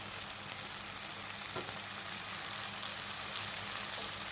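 Pumpkin greens sauté in oil with garlic and onion in a village kitchen, producing a steady, close hiss of frying with faint stirring movements underneath and no voices.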